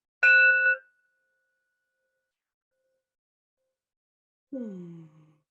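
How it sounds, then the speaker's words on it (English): A bell rung to open a group session, struck twice: a bright ringing tone with clear overtones that decays in under a second, then a quieter, lower tone about four seconds later, with silence in between. "I am going to ring a bell just to mark the beginning of this time together."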